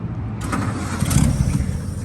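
An old 1933 Auburn car engine cranks and catches, then runs roughly with a steady low rumble, close by and fairly loud.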